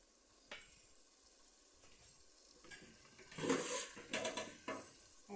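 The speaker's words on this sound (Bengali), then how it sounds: "সবজিটা একটু কষানো হলে, সিদ্ধ আধা সিদ্ধ হলে পরে চালটা দিব" Vegetables for khichuri frying in a pan, a soft background sizzle that swells into louder crackling and stirring scrapes midway, fairly quiet overall with no talk.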